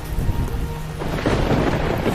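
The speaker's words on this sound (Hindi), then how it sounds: "ये बारिश तो रुकने का नाम नहीं ले रही। ये तो और तेज होती जा रही है।" Heavy rain pours steadily with a deep rumble of thunder rolling underneath, a dense, noisy wash of storm sound with cold wind, no voices present.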